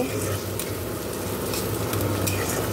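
Eggs frying with onion and green chili in a pan, scrambled: a steady close sizzle with scraping stir strokes throughout, no voices.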